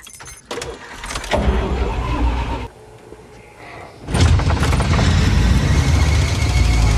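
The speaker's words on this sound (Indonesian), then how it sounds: "Charlotte berusaha menyalakan mobil dan akhirnya berhasil" Car engine in a werewolf horror film scene, with a clunk and jangle before a cranking attempt, a brief pause, then the engine catching and running loudly and steadily up close.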